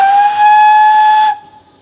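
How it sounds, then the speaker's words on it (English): A steam locomotive's whistle blown as a warning on approach to a platform, one loud, steady, hissing tone lasting a bit over a second before cutting off abruptly, leaving a faint hiss. "So we have a sound whistle board on the side of the track, which means I need to sound a warning to people that we're coming into the platform."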